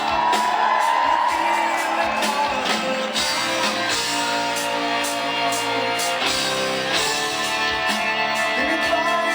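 A packed concert crowd at the Benedum Center in Pittsburgh roars, whoops and cheers as the curtains open, a dense, steady wall of loud shouting and cheering that holds throughout.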